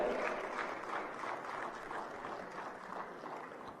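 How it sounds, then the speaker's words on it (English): An audience at a global media panel applauds a newly introduced panelist, an even, moderately distant patter of clapping sustained throughout at fairly low level. "A round of applause for Mr. Ryder."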